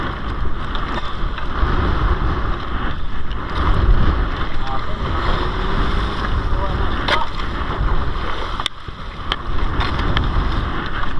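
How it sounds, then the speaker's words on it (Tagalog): Steady, heavy wind roars across open water, buffeting the microphone, with waves and a boat's rumble beneath and a few faint voices. "Lakas ng agos, lakas din ng hangin at talon."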